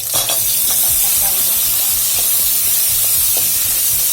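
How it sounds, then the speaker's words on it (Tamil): Small onions (shallots) sautéing in a pan make a loud, unbroken hiss, with light stirring scrapes now and then and a low hum beneath, and no one speaking. "எடுத்து வச்சிருந்த சின்ன வெங்காயம், இதை லேசாக ஒரு 2 நிமிஷம் வதக்கிக்கோங்க."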